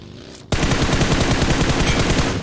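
Sustained rapid gunfire in PUBG Mobile erupts after a brief quiet moment and continues loud and close as a steady automatic burst of evenly spaced shots.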